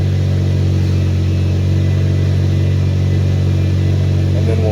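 Turbocharged Honda Civic engine with a Skunk2 intake manifold idling slightly high, a steady, loud, close drone with no change in pitch.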